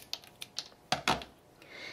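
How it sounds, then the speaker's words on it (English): An old pair of scissors snips wire for a felt pumpkin craft. Several light, close clicks come first, then two louder crisp snips close together, with faint handling noise afterward. "I'm just gonna snip that off, and then snip off a little bit this way"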